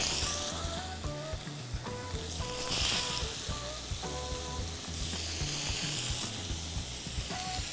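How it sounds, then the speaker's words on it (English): Steady frying sizzle of chicken in a pan, with occasional clinks and scrapes of cookware over a constant hiss. "Time to put the chicken on the pan."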